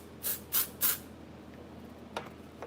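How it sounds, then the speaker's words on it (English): Hair spray hisses onto a braided updo in three short, sharp bursts in quick succession, close and loud, followed by quiet rustling and a faint softer puff near the end. "I'm gonna spray it"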